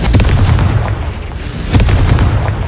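Two deep booming blasts from the Confringo spell in the game Hogwarts Legacy, loud and close. Each blast rumbles out briefly, and the second follows about a second and a half after the first.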